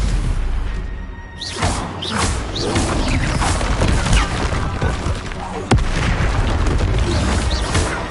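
Booming magical spell blasts and whooshing crashes from Hogwarts Legacy burst repeatedly in loud, dense succession, with a sharp impact midway and a brief voice mixed into the clamor.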